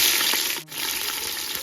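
White onions fry in oil for egg biryani, giving a steady close sizzle that dips briefly around the middle and then carries on, with no talking.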